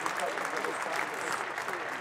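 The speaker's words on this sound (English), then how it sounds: "Can we get some clapping?" A small group claps at a show host's request, a steady patter of hands lasting about two seconds, faint and somewhat distant.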